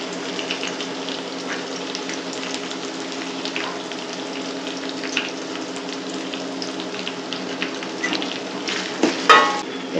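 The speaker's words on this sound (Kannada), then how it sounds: "ಇದು ಚೆನ್ನಾಗಿ ಫ್ರೈ ಆಗಬೇಕು ಎಣ್ಣೆಲಿ" Oil sizzles steadily in a pan while tomato and seasoning are fried for a Kannada-style tomato chitranna rice dish, a dense continuous crackle with a few louder spatters near the end.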